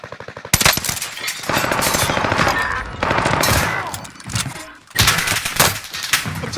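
Rapid automatic gunfire crackles in bursts in the Warzone Pacific video game on the Caldera map, loud and close, with brief gaps between volleys and some further shots trailing off.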